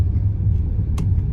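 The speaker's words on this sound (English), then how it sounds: "we're headed across the river again in all this traffic" Car driving through heavy traffic while crossing a river bridge, a steady low road rumble and engine drone from inside the vehicle, with a brief faint hiss near the end.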